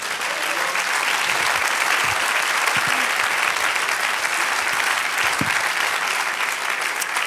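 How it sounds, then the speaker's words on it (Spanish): Loud, continuous applause from a large church congregation fills the room for several seconds without pause. "Dar un aplauso al Señor."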